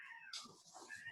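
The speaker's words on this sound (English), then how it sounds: "We got a cat fight going on outside." Cats fighting outdoors, a faint, distant yowl rising into a sharper screech and then falling into lower, strained wails over about a second.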